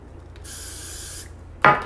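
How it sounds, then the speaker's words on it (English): A spray bottle of product mists onto wig flyaways along the edges in one steady hiss of about a second, followed by a short, louder rustling scrape. "You spray it."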